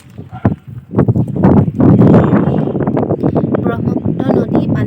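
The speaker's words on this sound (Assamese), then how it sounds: "বহুত জোৰকৈ বতাহ বলি আছে" Strong wind blows across the dried-out Brahmaputra river near Bogibeel Bridge, a loud, continuous rushing roar with gusty buffeting against the microphone.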